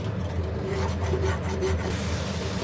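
Masala spices being stirred and fried in a pan while cooking chicken pulao, giving a steady close scraping and rubbing sound with a low hum underneath, no talking.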